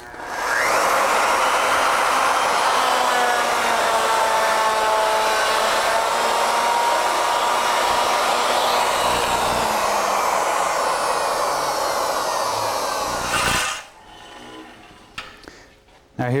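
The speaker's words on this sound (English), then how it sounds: "if we want to cut a bead around the end, we'll simply open the split nut and cut around this end" A Legacy ornamental mill cutting a bead around the end of a wooden workpiece, a steady loud high motor whine with a cutting rasp that runs without a break, then stops abruptly, leaving quiet handling noises.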